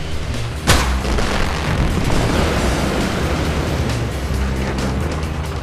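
Demolition blast at Marmot Dam, a concrete dam in the Northwest United States: one sharp boom near the start followed by a long, loud, rumbling roar of debris and rushing noise.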